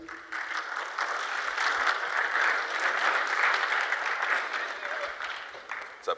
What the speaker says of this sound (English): Let me get a round of applause for the rest of my panelists